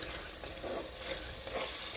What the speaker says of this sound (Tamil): தக்காளி நல்லாவே வதங்கிடுது